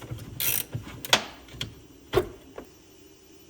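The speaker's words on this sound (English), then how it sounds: "We're going to use a 10mm wrench to take off the negative side." A 10mm wrench works the negative battery terminal of a 2006 Dodge Charger SRT8, giving a few sparse, quiet metallic clicks and ratcheting taps close up, separated by short pauses.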